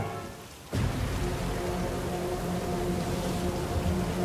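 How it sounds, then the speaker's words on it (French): Cartoon storm: steady heavy rain pours loudly after a brief quieter moment, with a low rumbling undertone of thunder throughout. "La tempête est de plus en plus violente"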